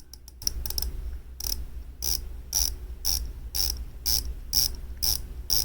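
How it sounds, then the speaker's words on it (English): Rotating bezel on an AddiesDive AD2089 quartz diver watch: a short flurry of quick clicks, then evenly spaced single ratcheting clicks about every half second, close and crisp with a tinny, hollow tone. "I'll let you listen to the bezel action here."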